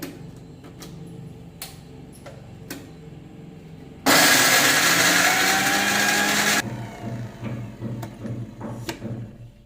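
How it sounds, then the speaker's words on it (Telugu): A mixer grinder blends tomato and carrot in its jar, roaring loud and close in a single burst of about two and a half seconds, with quieter clicking and handling before and after. "మిక్సీ జార్లో వేసేసుకొని మిక్సీ పట్టుకోవాలి మెత్తగా"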